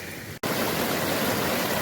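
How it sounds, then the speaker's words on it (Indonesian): A small waterfall on a forested Mount Slamet trail, heard up close as a steady, dense rush of falling water with one brief dropout. "Air terjun mini."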